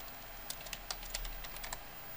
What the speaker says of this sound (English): I'm going to type in firefighter.